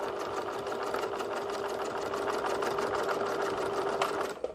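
A sewing machine runs steadily, stitching a straight-stitch seam along the side of a fabric school pencil case, a fast even mechanical whir that stops abruptly at the end.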